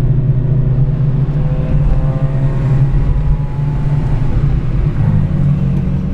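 A Chevrolet Celta 1.0 Life car engine climbs a hill in third gear, a loud steady rumbling drone heard from inside the car with little change in pitch throughout.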